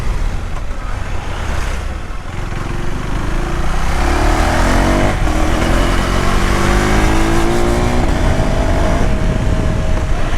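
A KTM Duke 390 motorcycle revs hard and accelerates, its engine note climbing through rising tones over steady road and wind roar, loud and close throughout.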